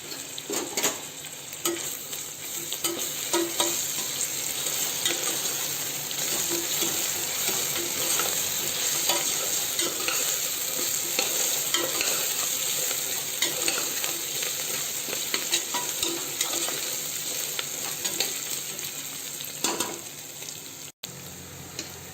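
Ginger garlic paste fries in a pan with a continuous close sizzle, stirred with repeated scraping and clicking strokes throughout, no voices, ending with a brief sharp knock.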